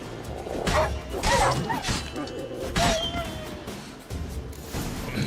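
A pack of dogs attacking in Witcher 3, with repeated barks, yips and snarls over a busy game backdrop of combat thuds, fairly close and loud.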